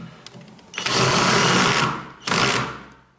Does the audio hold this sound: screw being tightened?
yes